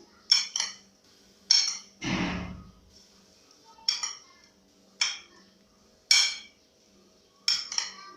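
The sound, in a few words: mixing creamy fruit salad with yoghurt in a bowl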